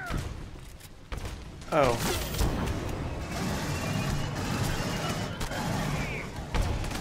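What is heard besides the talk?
incendiary shot fired in Aliens: Colonial Marines video game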